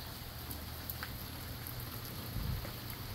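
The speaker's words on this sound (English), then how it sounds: "a rare, not hot, rainy day." Steady rain falls on a rare cool, rainy day, a continuous close hiss of drops with a slightly heavier low rumble near the end and no voices.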